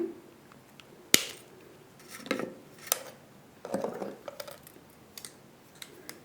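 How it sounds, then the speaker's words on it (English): Snips of jewellery wire being cut for a wire-wrapped reversible cabochon pendant: a sharp metallic click near the start, then scattered lighter taps and clicks at close range. "And then I'm going to cut that wire."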